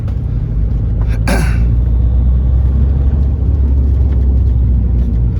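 A cheap VW Beetle TDI drives in fourth gear with a loud, steady low road rumble and engine drone filling the cabin, one sharp brief click standing out early.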